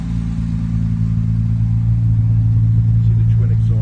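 A Jaguar car engine idles with its twin exhaust, a loud, close, steady low rumble that swells slightly toward the end as if lightly revved.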